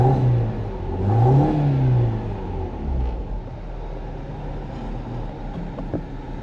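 A car engine revs up and then settles, rising and falling in a loud, close rumble before dropping back to a steady idle; no one talks.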